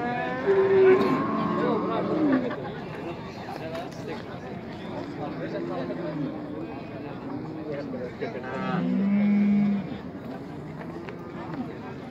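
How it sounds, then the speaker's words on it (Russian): Several cattle moo at close range at a livestock market in Toktogul, Kyrgyzstan, long low calls rising and falling over a busy background of people talking and shuffling. "кто-то бычками закупился, скотина там, коровы, телки."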